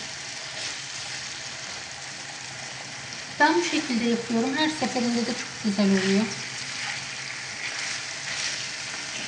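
Oil sizzles steadily in a pan while sultan kebab is cooked, a soft constant crackle heard close up, with someone talking over it for a few seconds midway.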